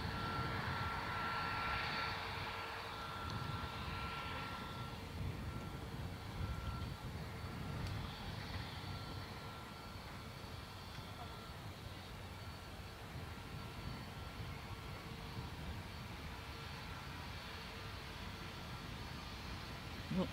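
A Ryanair airliner rolls on the runway at Dublin Airport, a distant, steady engine roar holding at a constant level for about twenty seconds, while faint radio chatter runs underneath.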